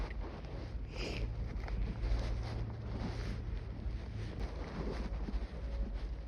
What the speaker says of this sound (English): The wind started blowing more on.